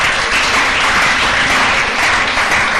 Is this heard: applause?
yes